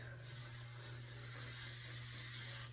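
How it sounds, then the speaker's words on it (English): Hairspray sprayed onto smoothed hair in one long continuous aerosol hiss lasting nearly three seconds, steady and close, with a low hum underneath and no talking. "Go back in with that hairspray."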